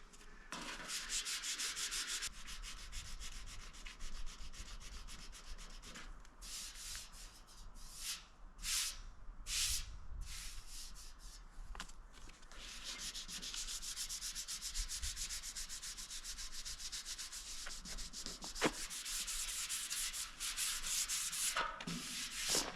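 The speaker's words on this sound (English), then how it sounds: "I'm just gonna see if I can just give it a little sand." A paint run on a Kenworth cabover sleeper is hand-sanded, making a continuous close scratchy rubbing with short bursts and pauses in the strokes, steady and fairly loud throughout, with no voices.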